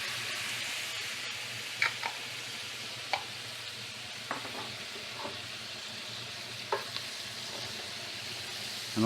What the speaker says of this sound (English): all I'm doing here is roasting that garlic a little bit